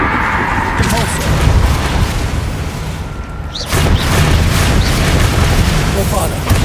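Repulsor spell bursts in Hogwarts Legacy combat, forceful booming blasts amid a loud, busy battle mix, with a brief lull before a fresh surge of impacts and voices calling out spells.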